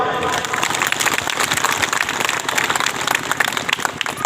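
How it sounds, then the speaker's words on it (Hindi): An audience applauds loudly, dense continuous clapping sustained for several seconds without anyone speaking over it. "चलिए तो खतरा के जोर से तालियां बजाइए।"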